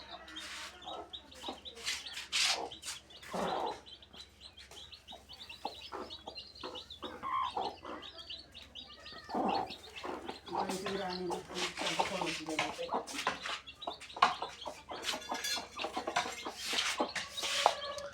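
Chickens cluck and chirp busily while being fed finger millet, a scattered stream of close clucks and peeps throughout, with a person talking over them at times.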